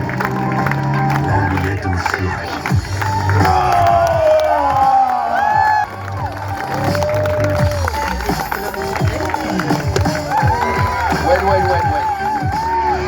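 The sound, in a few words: circus audience clapping and cheering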